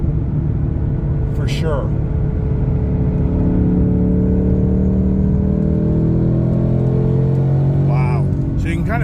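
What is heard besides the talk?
race truck engine with Whipple supercharger revving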